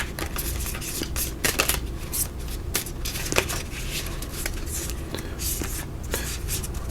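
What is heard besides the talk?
shuffling heart-shaped cards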